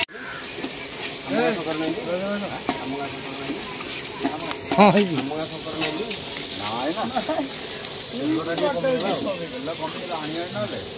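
Onion fries with ginger-garlic paste for chicken dum biryani, a constant sharp hiss of hot oil running under people talking nearby.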